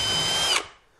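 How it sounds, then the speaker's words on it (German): Power drill pre-drilling holes into an 18 mm thick board, a loud high whine lasting about half a second before the motor cuts off and spins down quickly to silence. "Hierzu bohre ich aber vor"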